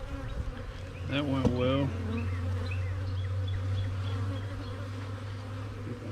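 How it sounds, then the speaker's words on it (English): Angry honey bees from a newly installed swarm drone in a dense, continuous buzz around the hive, while someone speaks briefly near the start. "show some angry bees"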